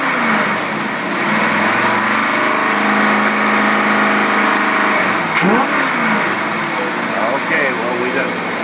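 A marine engine fitted with a Rochester Quadrajet carburetor and electric choke runs steadily and loudly up close, with slight revving and engine tone changes toward the end, under some background voices.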